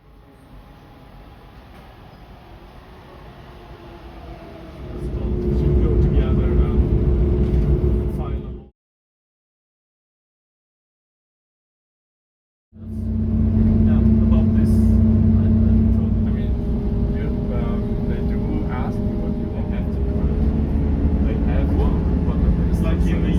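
Passenger train heading to Strasbourg, with a steady low rumble that swells louder partway through, cuts to a brief silence, then resumes as a loud, sustained rolling drone.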